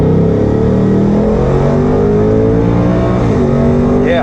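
A Ford Mustang GT with the Coyote V8 accelerates hard, its engine roaring loud and close as the revs climb steadily in one continuous, strained pull with no talk over it.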